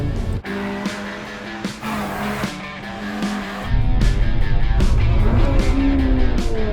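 Honda Civic Type R FD2 with a K20A engine drives hard, its revving note changing pitch and then growing louder and more sustained halfway through, with no talk over it.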